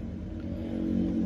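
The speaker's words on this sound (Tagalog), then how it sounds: "Kaya pala parang dumadalas na yung ingay ng truck." A truck rumbles past on a road in Bamban, Tarlac, a low steady engine drone swelling slightly as it nears, heard alone.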